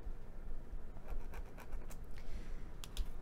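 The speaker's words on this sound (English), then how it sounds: "I'm just going to draw that 2 inch square in the corner of my fabric" A fabric marker scratching across fabric while drawing a 2-inch square in a corner, soft quick strokes in short bursts, faint and close.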